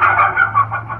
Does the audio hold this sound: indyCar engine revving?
no